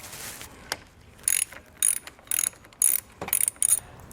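A ratchet wrench tightening the battery terminal nut on a 2021 Ford, rapid bright clicking bursts repeated in short strokes with brief pauses, close and fairly loud, with no talk.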